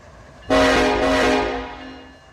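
Freight train in the Run 8 train simulator game pulling away, with a loud, steady horn-like tone that starts abruptly, sustains close and strong, then gradually fades over about two seconds.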